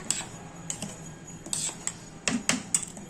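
Irregular metallic clinks and scrapes of a spoon knocking and stirring in a simmering pot of Pongal, repeating at an uneven pace, close and fairly light.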